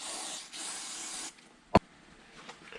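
Shop Solve carb and choke cleaner sprayed from an aerosol can onto plastic dirt-bike body panels in a garage, two steady hissing bursts of about a second each followed by a sharp knock and quiet handling noise.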